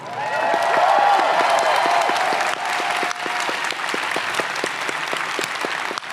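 A large audience at a Star Trek convention panel at Awesome Con 2021 applauds, dense clapping swelling at first and then thinning into steadier rhythmic claps.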